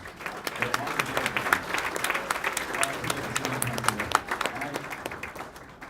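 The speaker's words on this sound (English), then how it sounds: "We need to have another round of applause for Kelly and Courtney and Kristen." A brunch crowd gives a warm round of applause, many hands clapping together at steady strength for several seconds and tapering slightly at the close.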